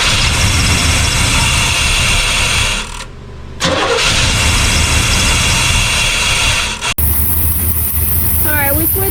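A 1989 Chevy Suburban, parked for years, idles loudly and roughly up close, briefly dropping out and catching again before a steady mechanical drone; voices are heard over the engine.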